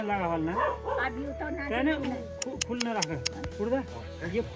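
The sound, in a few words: dog barking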